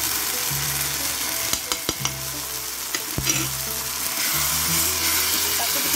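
Ground coriander and cumin fry in a pan with a steady close sizzle, while a spoon scrapes and clatters in short bursts as it stirs.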